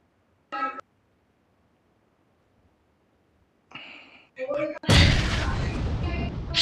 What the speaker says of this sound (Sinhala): අර බෝම්බයක් වැටුණාද